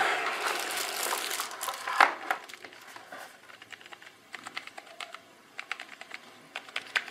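Keys clacking on a Trust GXT 280 non-mechanical computer keyboard with fairly high keys, a run of close, irregular taps and presses with a sharper knock partway through.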